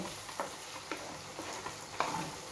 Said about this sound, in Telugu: ఎగ్ ఇలా అయ్యింది కదా, మనం కొంచెంగా కొంచెం ఇలా కలుపుకుందాం